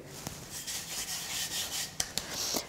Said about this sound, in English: I'm going to roll this into a rectangle about 30 centimetres long and 20 centimetres wide